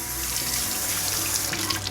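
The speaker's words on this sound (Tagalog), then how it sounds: "Table napkin, basahin lang natin ng tubig." Tap water runs steadily from a faucet to wet a table napkin, a close, even hiss with no talking.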